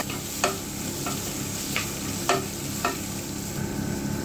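Bone-in local mutton with garam masala and a bay leaf frying in a pan, stirred so a spoon scrapes in a few distinct strokes over a steady background sizzle.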